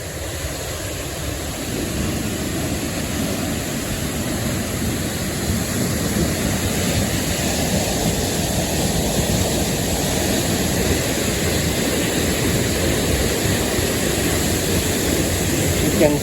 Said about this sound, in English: Now we'll go just behind the waterfall.